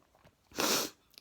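A single sharp sneeze in the middle of a quiet moment, loud and close, a burst of breathy noise lasting about half a second with faint sniffs around it.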